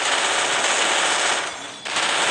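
Rapid automatic gunfire in the Free Fire mobile game, a dense, loud, continuous rattle of shots with a brief dip near the end before resuming.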